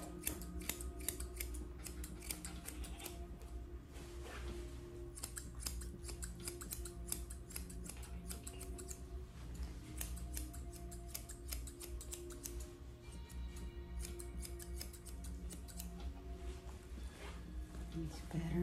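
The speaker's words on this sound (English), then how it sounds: "Use my thinning shears and just angle it up a hair." Thinning shears snip through a Havanese dog's coat during a pet trim, fast, crisp, repeated clicking cuts in quick bursts close to the ear, with only brief pauses between runs of snips.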